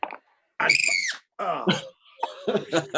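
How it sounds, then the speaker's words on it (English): A screaming sound effect from a film, like a lobster screaming: several shrill, high-pitched wails and broken cries in separate bursts with short silences between, close and loud. "There's like a lobster screaming in there."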